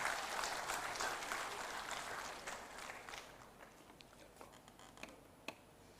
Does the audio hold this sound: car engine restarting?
no